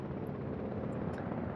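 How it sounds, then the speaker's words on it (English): The ACU helicopter in the video game Jurassic World Evolution gives a steady rotor drone throughout, a constant broad roar with no talk. "Get the ACU helicopter out to trank it up before my Ceratosaurus."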